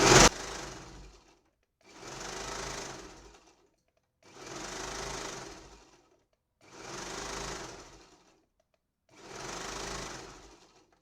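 A sewing machine stitches fabric in five steady bursts of whirring, rapid needle clatter, each lasting about a second and a half, separated by short pauses.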